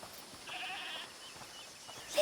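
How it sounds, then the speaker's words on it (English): A goat in Rat Tsunami Simulator gives a faint, drawn-out bleat mid-clip over a steady hiss of background game ambience, with a short sharper sound at the end. "Listen, is that the goat he talked about?"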